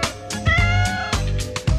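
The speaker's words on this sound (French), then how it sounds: "Y miaule la bouffe tombe." A domestic cat meowing for food, several loud, close, drawn-out meows in quick succession with short gaps between them.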